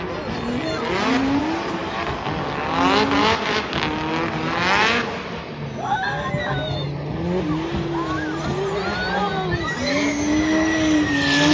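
Drift race cars at Istanbul Park during the Turkish Drift Championship scream past with revving engines and squealing, skidding tires, one car after another, loud and close, with a voice talking briefly over the noise.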